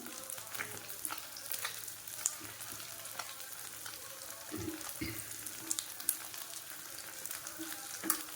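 Eggs fry in oil on a dosa tawa, a quiet, steady sizzle with faint intermittent clicks and scrapes, soft and close with no voices.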